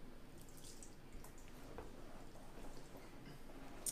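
Half a cup of water trickles and drips into a slime mixture in a bowl. The pour is soft and steady, heard close up and quiet, with no voices.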